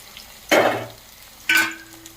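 Onions hit hot oil in a pan for egg rice, two loud bursts of sizzling as pieces are added and stirred, each fading quickly into a quieter fry, close and with no talking.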